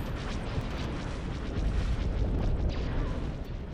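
Dense, continuous rumble of artillery fire and explosions in a Star Wars space strategy game, booming low and loud throughout with overlapping blasts and no clear gaps.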